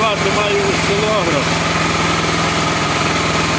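A portable generator runs under a 1 kW load with a steady, loud engine drone and a constant hum, with no break across the short stretch.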